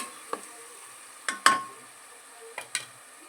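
Masala frying in a pan for dal rice, heard as a few sparse, sharp stirring clinks and scrapes against the pan over a faint low sizzle, with quiet gaps between strokes.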